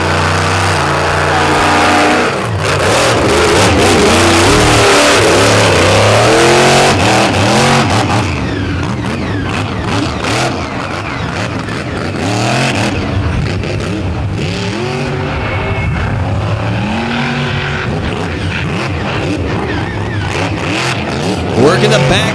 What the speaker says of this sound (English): You hear out of those zoomies, those awesome zoomies, that massive horsepower that Robbins built